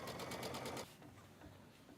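A sewing machine stitching a 1/4 inch seam runs in a fast, steady chattering whir for under a second, then stops, leaving quiet room tone.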